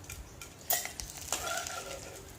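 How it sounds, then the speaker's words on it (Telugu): Oil hisses and crackles steadily in a pan, with a few clinks and scraping stirs as cabbage pieces fry. "అదే ఆయిల్లో మనం ముందుగా కట్ చేసి పెట్టుకున్న క్యాబేజీ ముక్కలు వేసేసేయండి"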